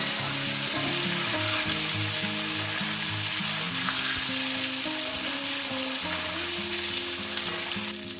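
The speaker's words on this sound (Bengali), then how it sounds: "এবার এঁচড়গুলো আমি আলুর মতনই লাল লাল করে ভেজে নেব" Young jackfruit pieces frying in hot oil make a dense, even crackle that stays loud and close throughout, with almost no interruption.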